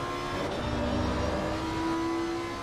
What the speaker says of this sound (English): Absolutely stunning noise coming off this car